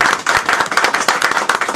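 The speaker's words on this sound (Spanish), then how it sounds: "Por eso y por mucho más, regalémonos fuertes aplausos a Alba Luz," A small audience at a poetry book presentation claps rhythmically and loudly at close range in a short, steady burst with no talking.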